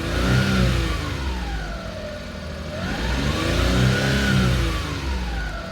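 A nearby Japanese import truck engine, warmed up, revs up and down in slow swells, its pitch rising and falling twice over a rumbling idle, loud and close.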